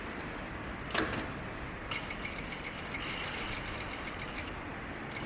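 A sewing machine stitches button-up shirt fabric, running in a faint, quick, steady patter of needle clicks that starts after a short pause and continues for a few seconds.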